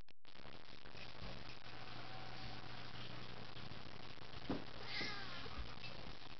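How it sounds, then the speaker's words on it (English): A cat meows a couple of times, faint and brief, over a quiet background hiss. "Meow."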